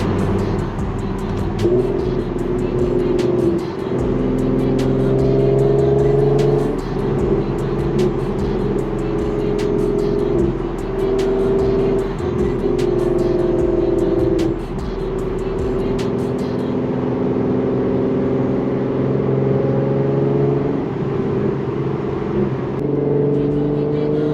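An Infiniti Q50 3.7 accelerates hard on the road, its engine droning loud and steady through rising and shifting tones for about twenty seconds, heard from inside the car before the revs ease off.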